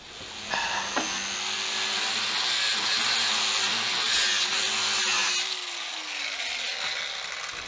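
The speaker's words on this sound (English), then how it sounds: "we had to grind it off in the end, and that's one ground off, and now we have to grind off the other side" Loud, close grinding of metal on a 1971 Mustang runs steadily for about five seconds, with a sharp snap partway through. The grinder then cuts out and leaves a quieter hum.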